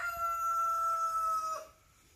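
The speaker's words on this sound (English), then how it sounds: "I don't know what he's crowing about" A rooster crows once on a rain-flooded farm, a single long, clear, sustained call with a steady tone that fades off at the end, fairly close with a quiet outdoor background.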